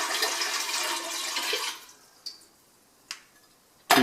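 Water pours into a brewing pot for a Mr. Beer extract batch, a bright splashing stream that cuts off after about two seconds, followed by a few sharp drips and clinks.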